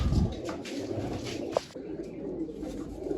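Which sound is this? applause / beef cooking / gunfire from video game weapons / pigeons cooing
pigeons cooing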